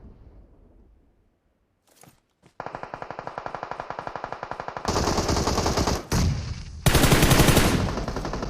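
Rapid automatic gunfire from a shooter video game firefight, loud and close, with bursts that build into dense, overlapping volleys after a brief quiet start.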